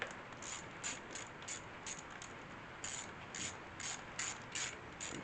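Bolts on a pulse generator install being snugged gently by hand in a crisscross pattern: a quiet, steady run of small ratcheting clicks in short bursts, with no talk.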